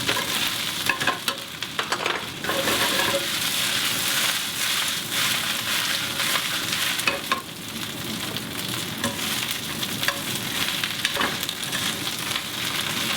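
Escarole cooks down in a pan, with a steady close sizzle and crackle that runs without a break, and frequent stirring scrapes and taps over it.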